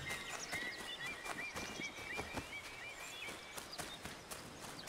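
Clip-clopping hooves of a galloping horse in Assassin's Creed III, a quick steady rhythm close by with a brief whinny and faint game ambience, no talk.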